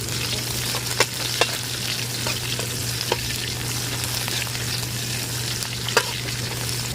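Ginger, garlic, onion and chili sizzle steadily in a hot pan while a utensil scrapes and taps now and then, with a few sharp clicks over the constant frying hiss.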